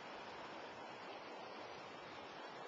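Swift water rushes steadily through an irrigation head ditch high in the western mountains, a continuous broadband hiss and gurgle that stays even and close throughout.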